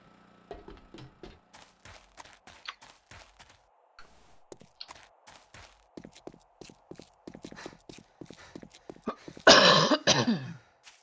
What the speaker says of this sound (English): just coughing up crap on the back of my throat.